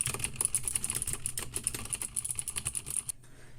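Fast, clicky keystrokes on an XPG Summoner RGB mechanical gaming keyboard, close and crisp, in a steady burst of typing that stops abruptly.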